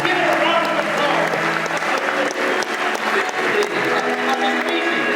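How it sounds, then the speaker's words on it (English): Audience applause at a live stage presentation, a dense sustained burst of clapping from a large crowd with voices mixed in. "give it a round of applause"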